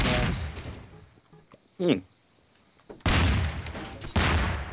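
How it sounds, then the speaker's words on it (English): Remote control bombs going off in the GMod Melonbomber game: a loud burst of blasts at the start, a short bang in the middle, then two heavy explosive bursts near the end, with a voice murmuring briefly. "Piercing fucking remote control bombs."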